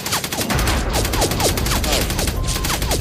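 Rapid cartoon AK-47 gunfire rattles in a dense, continuous burst with overlapping shots, loud and close, with no talk over it.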